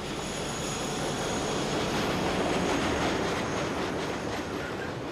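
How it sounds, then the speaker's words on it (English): A Belgian freight train carrying cold-reduced steel coil in mixed wagons, hauled by an early-1960s Class 51 diesel-electric locomotive, rumbles past steadily with rolling wheel noise and faint squeal throughout. "train is hauled by a Class 51 diesel-electric, an early 60s mixed traffic design"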